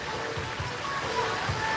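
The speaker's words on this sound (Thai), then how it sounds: "นะครับมีน้ำตก" Waterfall feature at a highway petrol station rest stop in Pak Chong, Thailand, a steady broadband rush of falling water, close and continuous, with faint tonal chirps above it.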